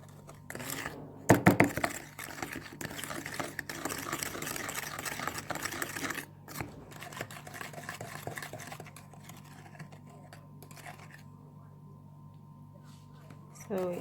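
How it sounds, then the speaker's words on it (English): Homemade fluoride-free toothpaste ingredients, including coconut oil and a dash of sage, being mixed with a rapid mechanical whirring that rattles steadily, then fades to a quieter hum, while a voice talks over it. "I'm adding in just a dash of sage, and then give this a nice mix. Combine everything well."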